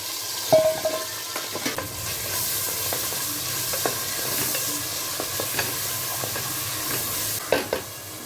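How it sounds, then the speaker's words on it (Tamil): Steady sizzling of chopped onions frying in hot oil, with occasional clinks and scrapes of a utensil stirring the pan. "இப்போ நம்ம வந்து பொடியாக நறுக்கி வச்சுருக்க வெங்காயத்தை சேர்த்துக்கலாம்"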